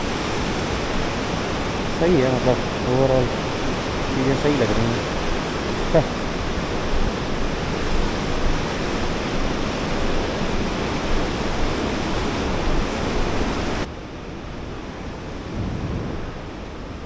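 A cold river flowing beside a walking path near a hot water lagoon in Manang, Nepal, a broad steady rush close by with someone talking over it early on before the sound cuts quieter.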